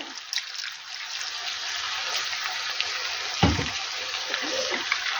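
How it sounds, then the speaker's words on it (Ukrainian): Water poured from a tap into a pan of tomato paste and flour for stewing fish, a steady close running stream with a brief louder splash midway. "Тепер сюди додам води."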